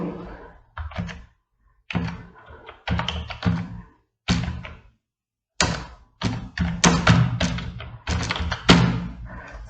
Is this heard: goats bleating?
no